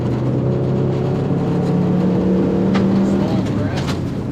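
An old boxy Subaru Legacy rally car drives a winter rally stage, its engine a continuous loud drone that rises in pitch. A voice talks over it.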